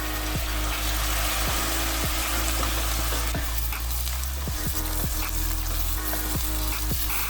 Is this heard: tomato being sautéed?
yes